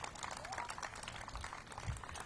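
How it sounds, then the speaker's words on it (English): A crowd at a senior housing celebration claps for the mayor's team, a short muffled burst of applause mixed with crowd murmur. "Give them and their teams a big round of applause."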